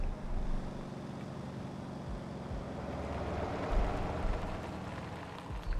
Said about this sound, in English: the engine sounds are louder when I actually push the pedal a little bit